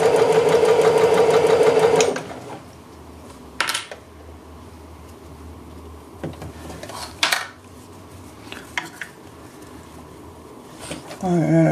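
A sewing machine stitches a dress in a loud, steady whirring run for about two seconds, then stops, leaving quiet handling clicks and soft rustles while someone talks in the background.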